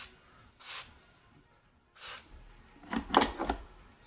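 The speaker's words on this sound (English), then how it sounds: "I'm even going to spray a little bit down in here." Several short hissing bursts of lubricant sprayed into a vintage Singer 401a sewing machine, two separate puffs followed by a quick cluster of spurts, close by in a quiet room.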